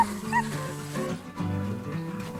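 A dog in training whimpers and yips in high, wavering cries over a steady low rumble of background noise, sounding close and fairly loud.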